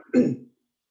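A single short, explosive sneeze during a board meeting bursts out and stops abruptly, followed by silence.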